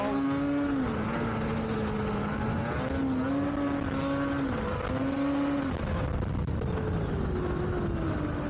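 Snowmobile engine on a cold winter trail, a close, loud motor whose pitch repeatedly climbs and dips as the throttle opens and eases, running steadily throughout without speech.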